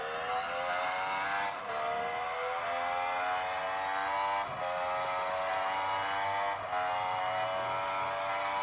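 Formula 1 car engine from a racing game on a Xiaomi Mi 8 Pro phone speaker, a continuous high-pitched whine that rises through the gears and drops sharply at each upshift, loud and steady with no talking.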